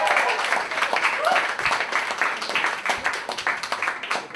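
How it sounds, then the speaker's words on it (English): Audience cheering and applause fill the room at steady loudness, a dense wash of clapping with shouts and crowd voices throughout. "So please give a big cheer and a round of applause for Mr."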